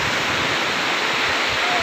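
Tad Yueang waterfall near Pakse, Laos, a loud, steady wash of rushing water filling the brief moment with broad, unbroken roar.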